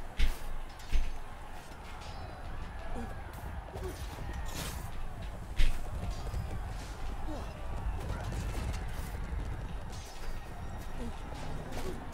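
Hooves of a freed horse clop in the medieval combat video game Chivalry 2, a loose irregular clatter of steps mixed with clashing game noise and a few sharp thuds, with a voice talking over it.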